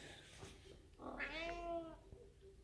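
A cat gives a single drawn-out, rising meow calling for attention, fairly close and clear over quiet room background with no talking.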